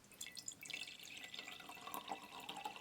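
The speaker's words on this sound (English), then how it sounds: "so I'm going to fill my jar to about here with water" Water is poured from a tap into a glass jar, a soft steady trickle and splash with small drips, close and fairly quiet, with no voices.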